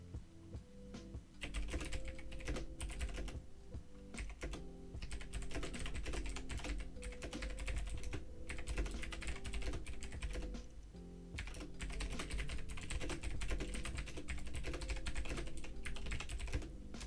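Fingers type on a computer keyboard in a rapid, continuous clatter of key presses, fairly close, running almost unbroken for the whole stretch with only brief lulls and no voices over it.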